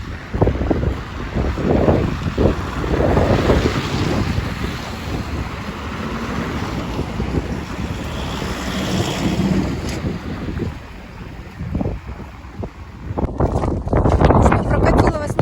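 Blizzard wind roars and gusts across a road in Norilsk, buffeting the microphone in a steady, heavy rush with surging peaks, while someone talks over it.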